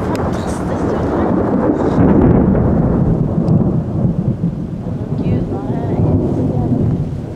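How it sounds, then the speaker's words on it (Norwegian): Thunder rumbles long and loud, low and rolling, during a thunderstorm in Lillestrøm, with rain and wind noise on the microphone; a person talks briefly through the storm. "Det skikkelig lyn og torden her."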